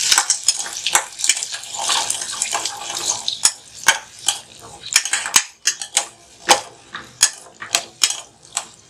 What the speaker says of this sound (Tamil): இதை நம்ம கொஞ்சம் வதக்கி விடலாம்